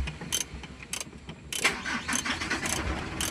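A Mitsubishi 4M42 diesel engine cranks and catches in one quick start, then settles into a steady, rough mid-pitched running rumble. It is heard up close with bursts of broadband noise.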